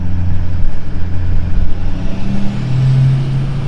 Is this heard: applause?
no